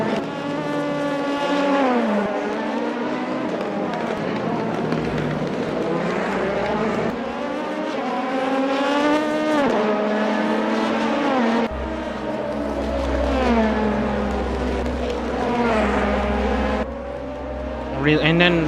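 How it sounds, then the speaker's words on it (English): Ligier race cars in a racing video game at Autopolis, Japan, their engines whining and rising through the gears over and over, heard under steady race commentary. "And then behind her, Masaraido and Shango in the Ligier with similar engines"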